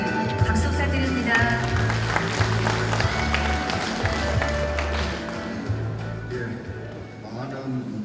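Audience applause at a Confucian scholars' leaders' ceremony in Gyeongju, a crowd of clapping filling the hall alongside speech and background tones.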